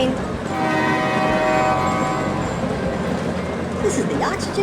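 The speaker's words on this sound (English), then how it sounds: "Here comes the train." A train arrives in the Mini Drivers children's game, a steady loud rumble of rolling cars with a horn-like tone, continuous throughout.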